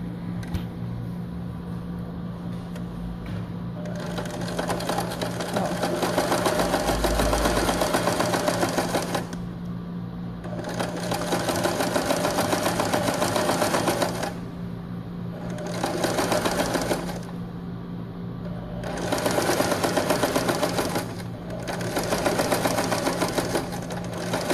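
A sewing machine stitches a shirt collar in several separate bursts, each a steady close mechanical whir lasting a few seconds, with brief quieter pauses between runs.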